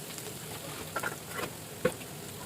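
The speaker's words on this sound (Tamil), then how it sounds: "ரெண்டுத்தையும் ஒன்றா போட்டுட்டு நல்லா வதக்கிக்கலாம்" Onion and carrot sauté in a pan, a soft steady sizzle with a few light stirring clicks and taps, quiet and close, no talk.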